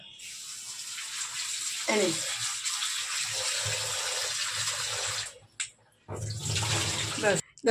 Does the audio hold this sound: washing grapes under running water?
yes